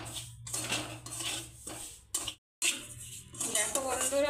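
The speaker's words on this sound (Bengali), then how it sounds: "1 কাপ সুজি, সুজিটাকে ভালো করে ভেজে নিতে হবে।" A cup of semolina dry-roasts in a pan while a spoon scrapes and clinks against the metal in quick, uneven strokes, briefly stopping for a moment of silence before the scraping and stirring resume.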